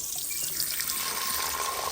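Water streams steadily from a tap, a constant close splashing hiss with no other sounds.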